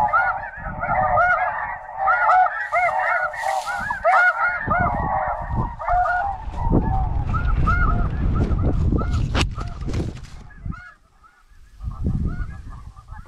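Snow geese honking in flight over a hunt, a dense, loud chorus of overlapping honks that runs nearly the whole time, with heavy low rumbling bursts underneath midway.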